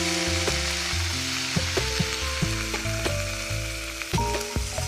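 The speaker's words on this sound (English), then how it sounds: "Now you want to add in your tomato sauce." Tomato sauce stirred into pepperoni pizza roll filling in a hot pan, a steady loud sizzle and frying hiss with repeated scraping stir strokes throughout, no talking.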